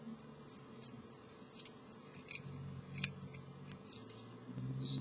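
Scissors snipping through an aquarium filter pad for a Biocube tank, a series of quiet, crisp cuts repeating every half second or so, close but faint, with no talk.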